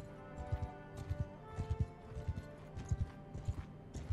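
Horse hooves galloping in the medieval combat game Mount & Blade II, a steady rapid clip-clop beat running throughout at moderate level over a continuous backdrop of game ambience.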